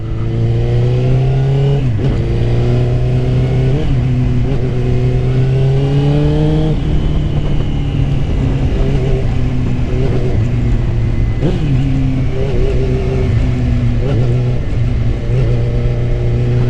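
A Suzuki GSX-R 600 motorcycle on a test ride before purchase, its engine loud and close with repeated rising and falling revs over a constant droning note.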